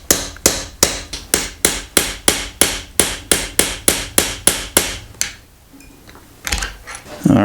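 Seventeen sharp metallic hammer taps in a steady, brisk rhythm, close and loud, driving a brass pin into a rifle barrel, then a pause with faint handling noises and a brief shuffle.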